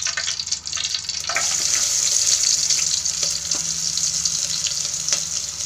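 Onions frying in oil in a cooking pot for a veggie kaima gravy, a steady close sizzle with a few scraping stirs and clinks, no talking.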